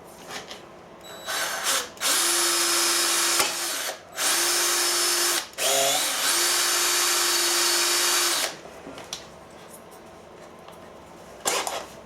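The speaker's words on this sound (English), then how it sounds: "I'll just drill these ones freehand." Handheld power drill boring holes freehand in painted metal, with three long whining bursts separated by short pauses and a brief trailing spin-up, close and loud.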